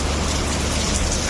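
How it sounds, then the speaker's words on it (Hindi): Heavy rain with big drops pours down loudly and steadily, a dense close hiss of impacts on surfaces with no voices. "ये देखो अब तो बहुत ही ज़्यादा तेज़ वाली बारिश आ गई"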